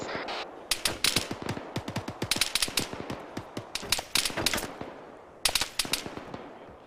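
Bursts of automatic rifle and machine-gun fire in a military simulation game, sharp cracks arriving in rapid clusters with short pauses between volleys, fairly close and loud, with no talk over them.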